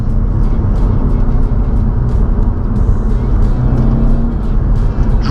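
Audi RS4 with a 420 hp V8 pulling hard under acceleration, a loud, steady low engine roar and road rumble heard from inside the cabin, continuous throughout.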